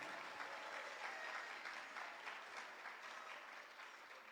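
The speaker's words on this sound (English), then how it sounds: "Let's give a round of applause for our parents and families." Steady audience applause for the parents and families of graduates at a virtual school graduation ceremony, sustained clapping with no talk, at an even level throughout.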